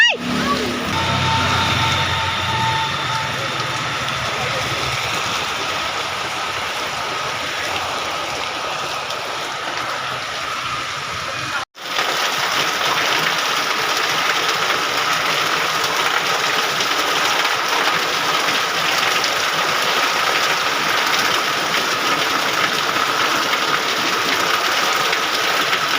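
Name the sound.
heavy rain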